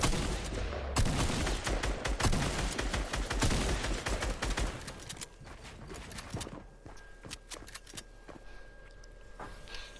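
Rapid bursts of gunfire from Fortnite, a dense loud volley for several seconds followed by scattered sharper single shots and clicks at lower level.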